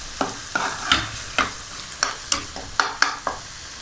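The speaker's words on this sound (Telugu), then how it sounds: "ఆ పేస్ట్ మొత్తం ఇందులో ఆయిల్లో వేసేసి వేయించుకోవాలి బాగా" Freshly ground spice paste frying in oil in a large pan, a steady sizzle punctuated by about nine crisp, regular spatula scrapes as it is stirred close by.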